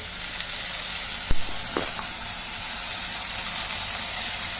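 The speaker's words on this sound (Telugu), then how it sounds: "ఉల్లిపాయ బాగా వేగింది కదండి. ఇప్పుడు మనం అల్లం, వెల్లుల్లిపాయ, జీలకర్ర, ఒక ఉల్లిపాయ ముద్ద తయారు చేసుకొని ఇందులో వేసేయాలండి." Onion and ginger-garlic-cumin paste sizzles in a pan on the stove, a constant hiss throughout with a brief knock and spatter near the start, close and alone.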